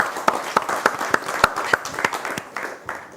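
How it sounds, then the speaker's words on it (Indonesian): Students at a televised Independence Day discussion clap in a fairly even rhythm, roughly three claps per second, with a soft crowd wash underneath, close and moderately loud before slowing near the end. "Tepuk tangan"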